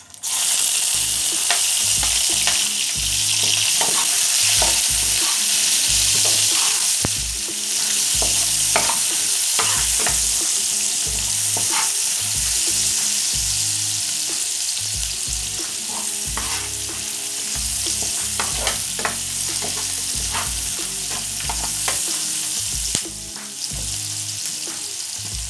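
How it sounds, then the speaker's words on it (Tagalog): Chopped onion sautéing in a pan for tuna pasta, a steady loud sizzle with repeated scraping stir strokes throughout, no voices. "So, ngayon po tayo po ay magigisa na."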